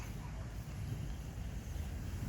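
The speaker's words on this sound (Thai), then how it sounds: "ลมแรงนิดหนึ่ง" Strong wind blows steadily outdoors in an orchard of Indian gooseberry trees, buffeting the microphone with a continuous low rumbling roar that never lets up.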